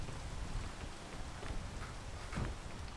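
Steady rain patters down in a video game, a dense continuous hiss of drops with a few faint footstep-like knocks underneath and no talking.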